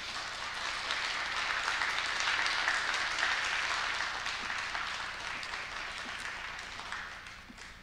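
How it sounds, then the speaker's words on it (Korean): Applause rises from a church congregation at a Wednesday prayer service, a broad wash of many hands clapping that swells and then slowly tapers off. "귀한 선교사님을 보내주신 하나님께 영광의 박수를 올려드리면서"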